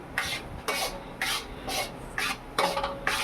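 A spoon stirs and scrapes grated carrot and crushed cashews in a pan in about seven evenly spaced, crisp strokes, close-up over a faint background hiss.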